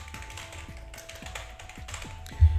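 Rapid typing on a computer keyboard, a steady run of light plastic key taps with an even rhythm, close and fairly quiet, with no talking over it.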